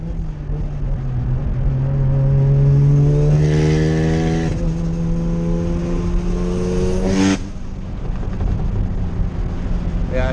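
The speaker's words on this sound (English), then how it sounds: "I'll blip it down to second so you can hear it." A loud Mazda RX-7 engine roars steadily, its pitch climbing, then a sharp throttle blip as it downshifts to second before settling into a lower rumble.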